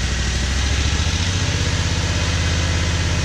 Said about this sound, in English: You can hear that as the pressure begins to increase, it's actually straining the motor.